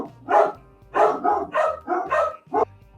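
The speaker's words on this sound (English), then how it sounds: "Dog interlude." A dog barks about seven times in an irregular series of loud, close woofs with short gaps between them, alone without any talking.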